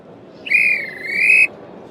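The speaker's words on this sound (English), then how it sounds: "The replica listened and waited for the guard to blow his whistle." A guard's single sharp, shrill whistle blast at a railway station, about a second long, dipping slightly in pitch in the middle before cutting off cleanly.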